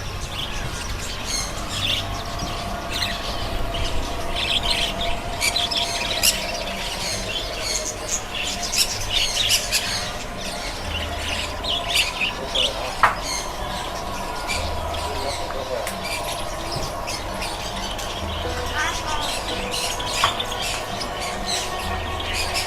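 Quail and other caged birds chirp and call at the Chatuchak bird market in Bangkok, a dense, steady mix of tweets and squawks over a busy market murmur with faint background voices.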